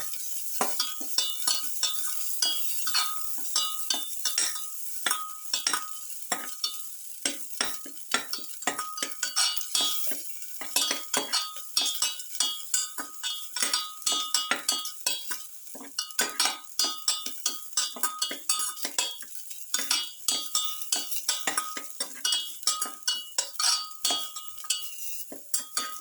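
Salt being stirred into tomato pilaf with onion, a utensil clinking and scraping against the pot in a quick irregular rhythm throughout, close and fairly quiet, with no talk.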